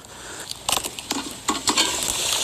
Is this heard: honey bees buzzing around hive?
no